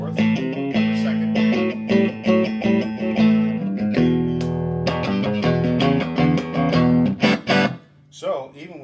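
An electric guitar plays through a Port City amp on the middle pickup setting, with sustained chords and picked notes. Loud and close, then it rings out near the end.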